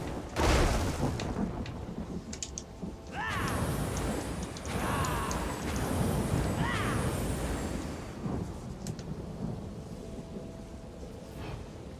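A thunderstorm in the ESO (Elder Scrolls Online) video game, with steady heavy rain and deep rolling thunder that builds and swells across the clip, loud and continuous, with no one talking.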